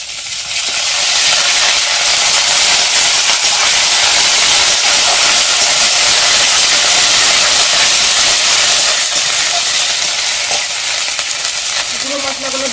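Cumin, ginger and garlic paste fries in a pan for Bengali kochu shak, a loud, continuous close hiss and sizzle with faint stirring.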